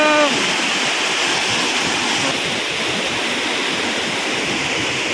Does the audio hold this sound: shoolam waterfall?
yes